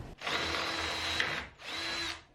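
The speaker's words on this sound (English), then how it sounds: "and drill down" A power drill bores through metal piping in two close, loud bursts of whining, steady drilling separated by a short pause, with no talking.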